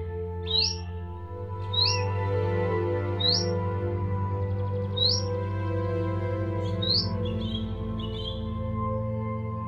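An Indian robin sings bright, clear phrases that repeat every second or two, close and distinct, over a steady low hum and background rumble.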